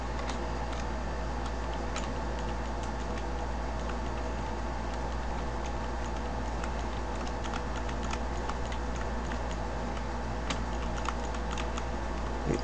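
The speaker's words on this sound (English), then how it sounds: "I keep on moving with the uh, arrow keys." Computer keyboard arrow keys are tapped steadily while playing The Binding of Isaac, a dense stream of quick faint clicks over a constant low hum, with no talking.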